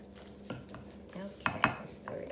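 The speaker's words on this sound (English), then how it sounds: "let's stir it up around here a little bit" A spoon stirs chicken salad in a bowl, making soft, close scraping and clinking strokes in short uneven bursts, with a couple of sharper knocks midway.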